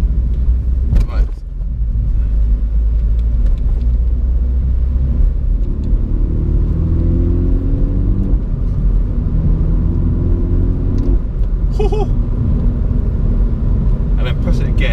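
A Mini John Cooper Works idles and revs with its exhaust valves open, a close, deep rumbling burble that rises in pitch through several throttle blips, with a brief squeak near the end.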